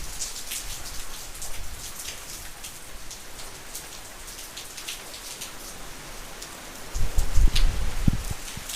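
Wind picking up in a residential neighborhood during Hurricane Irma: steady hissing rain throughout, then a loud, rumbling gust buffets the microphone near the end, with no talking.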